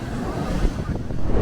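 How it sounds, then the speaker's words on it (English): Massive storm waves crash at Ocean City beach, pounding into the pier with a loud, continuous roar of surf buffeted by wind noise on the microphone. "the harsh waves took over. I haven't really seen anything like this since Hurricane Sandy. Waves crashed into the pier."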